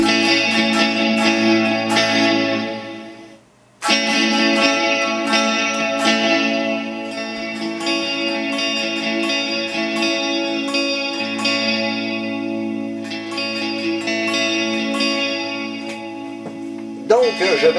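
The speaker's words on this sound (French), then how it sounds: "Un petit peu comme si c'était un reverb et voyons, un chorus en même temps." Electric guitar played through a Guptech WKB multi-effects unit with reverb and chorus engaged, ringing chords with a lush shimmering wash, one brief gap near the start, loud and alone.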